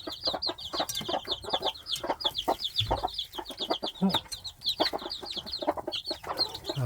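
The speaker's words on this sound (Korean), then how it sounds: "자 우리 병아리들 잘 있나" Pet hens cluck and chicks peep rapidly and continuously close by. The high, chattering cheeps form a dense layer over the hens' lower clucks and rustling.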